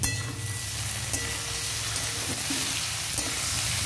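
Beetroot and potatoes fry in a pan with a steady close sizzle, stirred by hand, with a few soft scraping knocks breaking through the continuous crackle.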